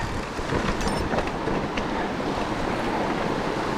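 Mountain bike rolling through small trickling streams on a trail near Lac de Montsalvens, Riaz, giving steady broadband wash of water and tyre noise with wind buffeting the microphone throughout.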